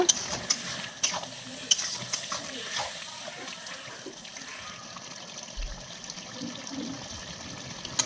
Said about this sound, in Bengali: এখন ঢাকনাটাকে খুলে আর একটু ভালো মতো করে নেড়ে চেড়ে নেব